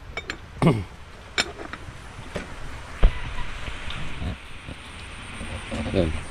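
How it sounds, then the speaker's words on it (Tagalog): Rain falling outdoors near a small vegetable stall, a steady soft patter under scattered knocks, creaks and brief voices talking nearby. "Umuulan!"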